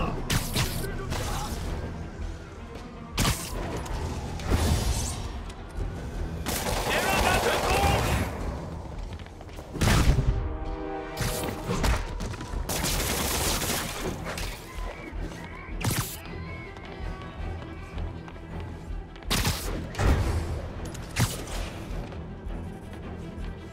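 Sniper gunfire in the Marvel's Spider-Man Remastered video game, a busy mix of sharp shots, crashes and impacts over steady game score, with a loud burst of bangs near the middle and further hits spread throughout.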